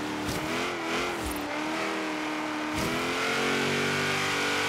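A 1956 Ford F-100 race truck at full throttle in Forza Horizon 3, its engine roaring steadily and loudly with rising harmonic pitch and a brief gear-change dip.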